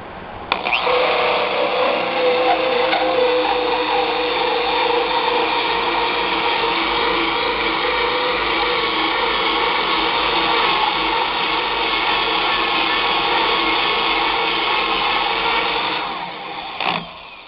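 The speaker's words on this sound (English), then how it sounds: "this is going to allow us to take this drill and go through this way" Power drill boring through a shed wall, a loud continuous whirring grind running steadily for about sixteen seconds before cutting off, close and alone.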